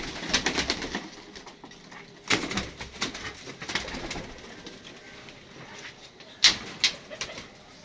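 Kamgar pigeons in a loft, with soft cooing and rustling near at hand, a few sharp clatters and wing flaps breaking in, no speech.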